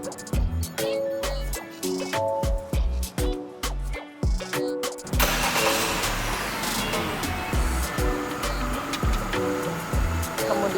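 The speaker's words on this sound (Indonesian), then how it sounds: "hidupkan mesinnya" Light music plays, then a Wuling Almaz RS PRO car engine starts at the midpoint and settles into a steady idle rumble beneath the music.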